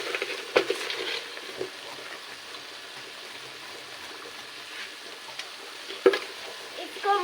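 Masala with cumin and salt sautéing in a pan for kofta curry, a soft continuous sizzle with a few sharp clinks and scrapes of a spoon stirring.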